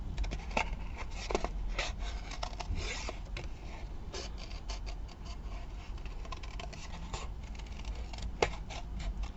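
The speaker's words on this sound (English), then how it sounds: "Oh, sticky scissors, don't like." Sticky scissors snip through paper in quick, irregular bursts with rustling and scraping in between, close and moderately loud, no talking.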